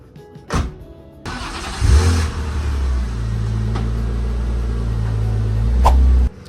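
A car engine idles and then pulls steadily under load as the car is driven up onto wooden blocks, a loud, close, continuous rumble lasting several seconds before cutting off.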